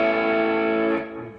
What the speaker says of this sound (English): number four is a dirty rhythm sound. So we've got our Princitone, reverb, short delay.